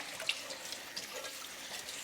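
Cold tap water runs steadily over cucumbers being rinsed for pickles in a kitchen sink, a faint continuous hiss with soft splashes and no talking.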